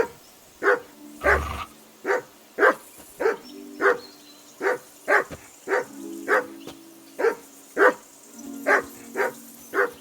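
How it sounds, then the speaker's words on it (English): In Kingdom Come: Deliverance II, a dog barks repeatedly in a steady rhythm, roughly sixteen sharp, near barks over ten seconds with a faint ambient bed beneath. "I assume you can hear that damn dog of yours barking."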